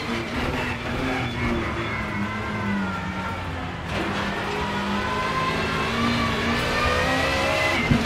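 A Peugeot 406 BTTC race car engine revs steadily at close range, a loud continuous drone with rising harmonic whines that climb gradually toward the end, with no pause in the engine note.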